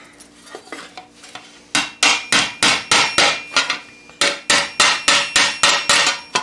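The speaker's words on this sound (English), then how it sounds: "keeping everything perfectly flush, I lightly hammer it out" Light, even hammer taps on a metal armour greave, a few scattered soft knocks giving way to two steady runs of sharp, ringing blows, close and loud with no talking.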